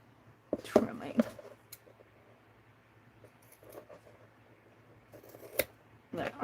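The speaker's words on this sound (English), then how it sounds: "There's a bit here that needs trimming." Scissors snipping paper trimmed from a mixed-media craft box, a few close, quiet cuts in short bursts with faint handling noise and soft speech between them.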